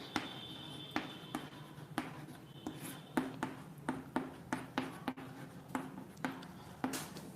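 Handwriting during a maths lesson on sets, a pen or chalk tapping and scratching in short strokes at an uneven, fairly steady pace, close and clear with no talk.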